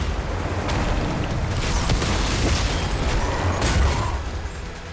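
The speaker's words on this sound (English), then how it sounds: "Use a rocket launcher on this thing." Rocket launcher fire and explosions in the video game Doom: The Dark Ages, dense overlapping booms and rumbling blasts layered over continuous low-end combat noise, loud and sustained throughout.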